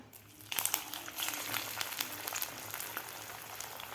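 Poha vada dropped one by one into well-heated oil in a home kitchen, giving a steady crackling sizzle that jumps up after a quiet start and stays dense and close throughout.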